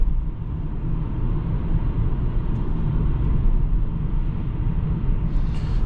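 A 2004 Lexus LS430 comes to a stop after hard acceleration, its low, steady road and engine rumble holding constant and fairly loud with no voices.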